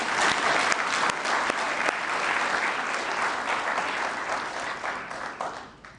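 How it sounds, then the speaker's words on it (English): Sustained applause from a seated audience at the official opening of the ARIPO Council of Ministers session in Gaborone, dense clapping that fades toward the end. "Let us join hands to applaud ourselves"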